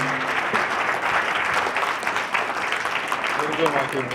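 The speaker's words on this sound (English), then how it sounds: "Let's have a round of applause for Arash" An indoor audience claps steadily for a speaker, a dense, even wash of applause that stays loud throughout with a few voices faintly mixed in.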